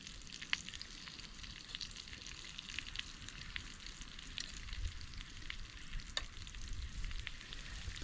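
Deer steak sizzles in a pan on a small trail cooking stove outdoors, a quiet, steady crackle of frying with scattered sharper pops throughout.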